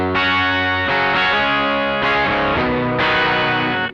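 Strummed electric guitar chords through a Line 6 HX Effects octave-up pitch effect, with a bright, doubled, shimmering tone like a twelve-string, several chord changes played loud and close without talking.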